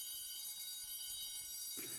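A fire alarm in the video game Glory Hounds rings as a faint, steady electronic tone, continuous throughout with a brief thump near the end.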